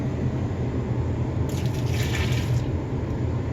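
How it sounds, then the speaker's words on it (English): Water dumped from a cooking pot into a sink pours in a steady, close gush for several seconds, with a brighter splashing surge partway through and no voices. "We're going to dump just a little bit more of this water out."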